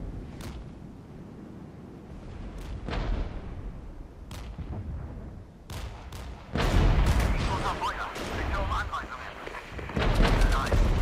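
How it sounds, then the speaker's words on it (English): Enemy mortar fire in the war game Regiments produces repeated booming explosions and crackling gunfire, some distant and some close and loud, with heavier blasts building toward the end. "That's going to be enemy mortar."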